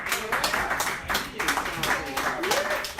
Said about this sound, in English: Round of applause for Dana.